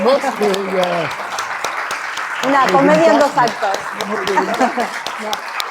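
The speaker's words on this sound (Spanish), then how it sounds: "aquí en general estoy aplaudiendo" Theatre audience applauding, a steady wash of clapping that swells midway, with a voice speaking over it throughout.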